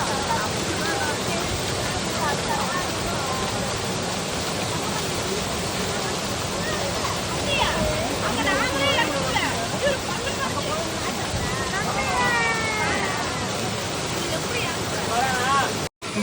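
A waterfall in Coorg roars with a constant broad rush of falling water, close and loud throughout, with faint voices and shouts of bathers mixed in beneath it.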